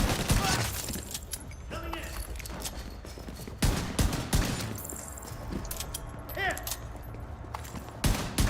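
Gunfire in the video game The Division 2: repeated sharp shots and bursts with impacts and glassy shatters spread through a busy game soundscape, loud and close, with a voice talking over parts of it.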